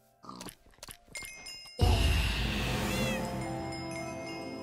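A Minecraft cat gives a clear, near meow that stretches into a wavering caterwaul, following a few soft clicks and chimes from the game.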